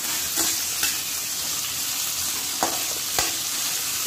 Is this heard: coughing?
no